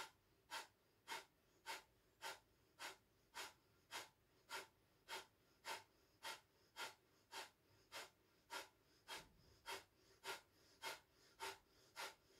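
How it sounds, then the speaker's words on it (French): A steady run of breaths during a yoga sound-practice breathing exercise, about twenty evenly spaced airy pulses, close and fairly quiet, with no talking. "Respiration lente et profonde."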